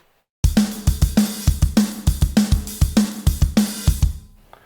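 Sharp cracks from a virtual Sonor Protean snare drum over a kick drum in a steady beat, punchy and close with a ringing, slightly higher tone, then a short decay at the end.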